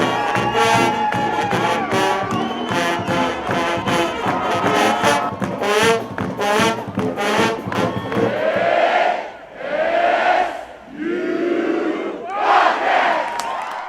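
A standing-room-only crowd at a pep rally for a college football bowl game on a riverside theater plaza roars and chants in loud, rhythmic bursts, then swells into sustained cheering waves.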